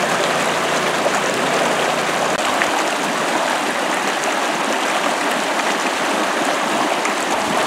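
A stream rushes over boulders in a steady, close, full-bodied hiss and gurgle that stays constant throughout, with no voices.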